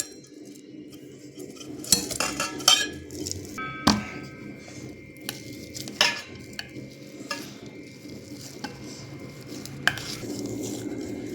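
Boiled potatoes mashed smooth in a bowl for cheese balls, with a steady soft squishing and scraping under repeated clinks and taps of a utensil against the dish, fairly close and continuous, no talking.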